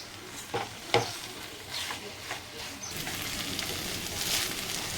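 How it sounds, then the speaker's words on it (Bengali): Banana flower curry (mochar ghonto) with ghee and garam masala sizzles in a pan while a spoon stirs it, a few scraping knocks early over a continuous hissing fry. "আর একটুখানি দিচ্ছি গরম মশলা দিয়ে একটুখানি নেড়ে নেব"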